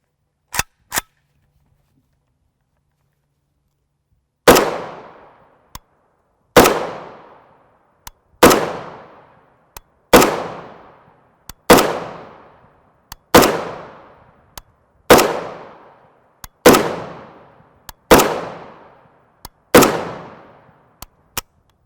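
A rifle fires 7.62x39mm 123gr FMJ Global Ordnance ammunition with an AKT trigger and Manticore Arms stock, two quick early shots then nine loud evenly spaced reports, each with a sharp crack and decaying tail.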